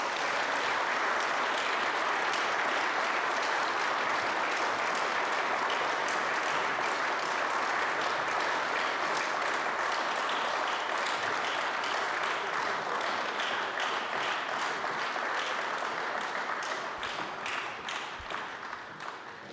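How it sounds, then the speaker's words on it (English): Sustained audience applause for Nigel Farage at the end of his speech on threats to freedom, a dense even wash of clapping from a large crowd that holds steady and begins to thin toward the end. "Let's give him another round of applause, please."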